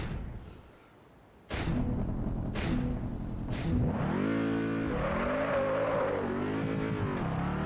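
A Lancia car in the racing game Test Drive Unlimited 2 starts with a few sharp bursts, then its engine revs loudly and steadily, the pitch rising and falling through the gear changes, with no talking.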